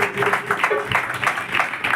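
A worship congregation claps for the Lord at a Christian worship song gathering, giving rhythmic, fairly loud hand claps mixed with voices and music.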